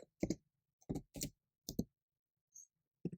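Crisp, separate keystroke clicks on a computer keyboard, a handful of close taps with short silent gaps between them, ending on one more key press, with no talk.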